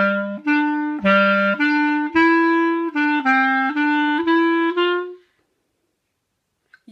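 A wind instrument plays the second part of a Småland polska, a run of clear sustained notes in dance rhythm for about five seconds, close and solo, then stopping into silence.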